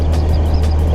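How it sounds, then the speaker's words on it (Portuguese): Loud diesel car engine droning steadily up close, a thick low hum with no break over the whole second and no voices. "Tem que falar alto, hein, por causa do volume do motor diesel."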